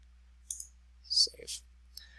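A few light computer mouse clicks sound while text in a document is deselected, brief dry ticks spaced apart in an otherwise quiet room, with a faint breathy sound between them.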